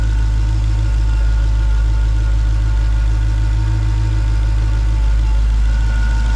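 A supercharged car engine idles steadily on first startup after months, with a deep, constant low rumble and faint mechanical hum, close by and unbroken throughout.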